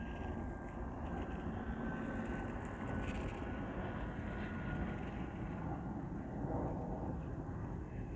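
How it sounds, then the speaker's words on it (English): An airplane flies overhead, heard as a continuous broad, rumbling engine roar at moderate distance, steady and unbroken throughout with no talking. "There's additional plane activity as well."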